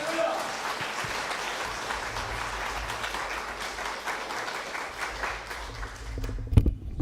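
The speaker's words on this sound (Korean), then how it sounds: "박수해 주시기 바랍니다." A church congregation at a revival meeting gives sustained, dense applause lasting several seconds, filling the hall evenly before fading, with a brief thump near the end.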